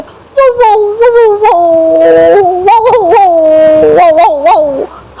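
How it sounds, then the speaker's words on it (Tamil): An injured dog, bleeding after being hit by a motorbike, howls and whimpers in drawn-out, wavering cries broken by short yelps, loud and very close. "அழுகுற மாதிரி அந்த நாய் அங்க படுத்திருக்கு பூமாவுக்கும் விநாயகக்கும் பார்த்த உடனே பாவம"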